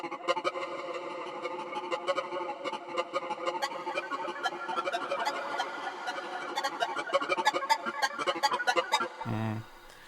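A Vintage Talk Box gossip arpeggio synth patch, a rapid chattering run of vowel-like, voice-shaped tones in a busy, continuous pattern that cuts off near the end with a low blip.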